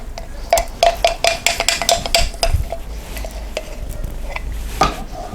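Melted cheese stirred with a spurtle in a dish for a Philly cheese steak lasagna, giving a run of close, irregular scraping and tapping strokes against the container, busiest at first and then thinning out.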